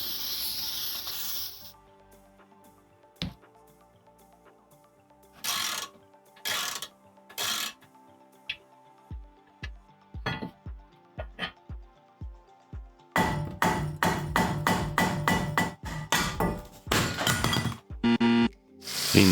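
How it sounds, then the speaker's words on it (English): Brake disc and caliper carrier bracket being removed from a VW Passat B7, with scattered sharp metallic clanks, knocks and tool impacts separated by quiet pauses, then a denser run of rapid clattering near the end. "Let's remove the brake disc and the caliper carrier bracket."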